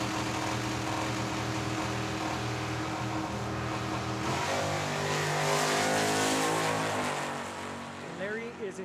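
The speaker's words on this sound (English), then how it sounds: "986 is a dial-in for Larry Cannon, left-hand side, the 70 Chevelle" A 1970 Chevelle and a Z28 launch side by side at a Tucson drag strip, a loud sustained engine roar that climbs in pitch as the cars accelerate away and then fades with distance.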